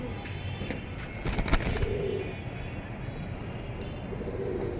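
Pigeons from a fancier's collection coo softly in short, low phrases, two or three bursts amid a busy background with brief clattering noises.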